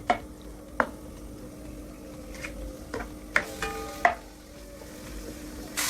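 Meat frying in a pan for white sauce pasta, a steady sizzle broken by several sharp stirring clanks and scrapes of a utensil against the pan, close and moderately loud.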